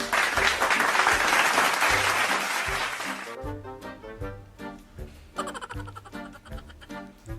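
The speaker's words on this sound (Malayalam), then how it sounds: "ഗീതുവിന് എല്ലാവരും കൂടെ ഒരു ക്ലാപ്പ് കൊടുത്തേ." A classroom gives a burst of applause, loud and dense for about three seconds. It then thins into scattered individual claps, with a brief renewed flurry near the end.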